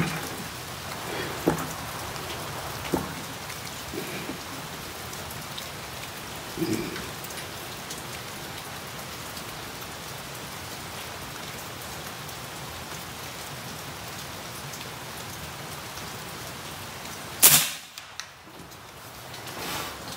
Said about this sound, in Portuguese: A chuva aumentou, o celular tá lá molhando.